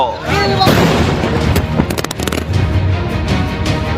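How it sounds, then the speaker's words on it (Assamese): A bomb blast targeting a West Bengal labour minister, loud and chaotic from start to finish, with sharp bursts and booming crackles over a continuous rumble and confused voices. "কেমেৰাত বন্দী বিস্ফোৰণৰ শিহৰণকাৰী দৃশ্য"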